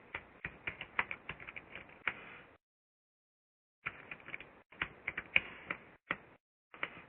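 Typing on a computer keyboard while building an Excel spreadsheet: bursts of quick, close clicky keystrokes with a couple of pauses, including a silent gap of over a second midway.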